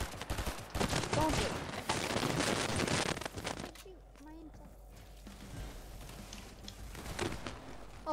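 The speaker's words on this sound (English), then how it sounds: "Hey, stop shooting at me." Rapid gunfire in Fortnite crackles densely for the first few seconds, then gives way to quieter scattered noise with a brief burst near the end. Several voices talk over it.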